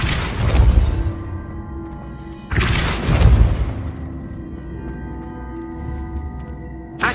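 A Depulso spell cast in Hogwarts Legacy lands as two loud, deep whooshing booms a few seconds apart, each fading into a low, ringing rumble, with no talk.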